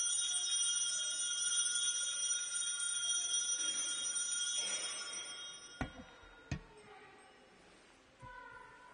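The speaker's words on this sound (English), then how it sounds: "We heard the words, we heard the bell ring." During the consecration at a parish First Communion Mass, an altar bell rings with a sustained shimmering tone that fades, followed by a couple of sharp, clear strikes in a church.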